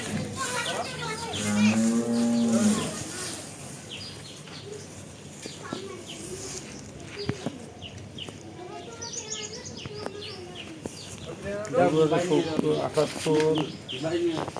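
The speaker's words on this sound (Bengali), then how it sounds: "গরুটা" Big bulls and old cattle at a livestock market, lowing in long deep moos, one loud and close early on and more calls later, mixed with birdsong and people talking nearby.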